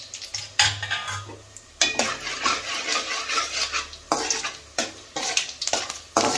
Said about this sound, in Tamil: இப்போ பட்டை கிராம்பு இதெல்லாம் போட்டுக்கலாம்.